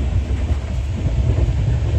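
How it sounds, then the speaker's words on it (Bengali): Howrah–New Delhi Duronto Express heard from inside a first-class AC coach: a steady, loud low rumble of running wheels and carriage noise with faint rhythmic rail clatter, continuous throughout, no voices. "একটু স্পিডটা কমেছে এখন ট্রেনের, মাঝখানে খুব ভালোই চলছিল।"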